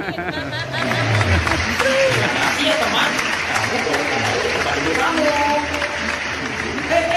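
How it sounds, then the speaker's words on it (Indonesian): A children's audience claps throughout at a dinosaur-feeding show, a steady dense patter of many small hands, with an adult voice speaking over it and some crowd chatter underneath. "Tepuk tangan."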